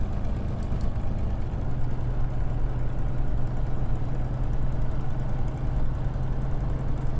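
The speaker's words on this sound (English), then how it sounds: "now the engine fires into life." A Spitfire's piston engine, just started in Microsoft Flight Simulator 2020, runs at a steady low idle, with a continuous deep rumbling drone and no talk.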